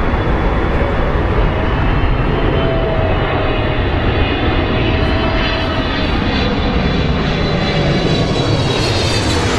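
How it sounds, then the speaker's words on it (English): A Jet Airways Boeing 777-300ER jet passes at Heathrow with a loud, continuous engine roar and rushing air that holds steady throughout, very close and powerful. "Jet Airways 777-300ER."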